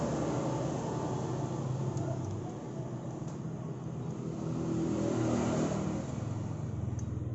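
An engine runs with a steady, dense mechanical drone while its throttle cable is adjusted, swelling slightly in a brief rev partway through before settling back.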